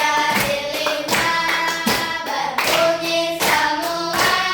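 A class of children claps together in a steady, loud rhythm, with several bursts of hand claps under a chanted counting song in a classroom.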